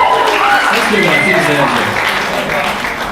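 Studio audience at a comedy roast battle applauding, a broad steady wash of claps and cheers that stays loud throughout and tapers slightly at the end, with voices mixed in.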